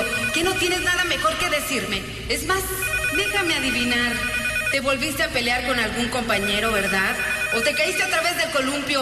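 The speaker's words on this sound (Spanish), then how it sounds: "¡Ay, maldito teléfono!" A telephone bell rings over and over, loud and close, beneath a voice scolding continuously in Spanish.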